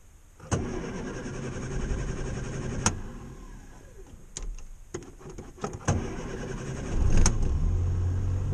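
A Morris Minor, just converted back to contact-breaker points, cranks with a starter and fires into a running engine, with clicks and clunks along the way and the motor catching loudly near the end.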